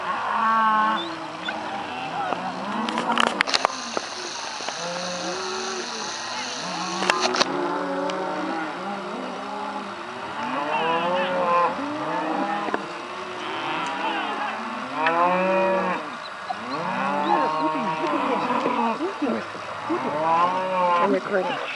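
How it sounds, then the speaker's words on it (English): A herd of cattle moos repeatedly while driven down a road in Montana, many overlapping bellows near and far with a steady rumbling background, including a brief high whine partway through. "they're herding them down the road"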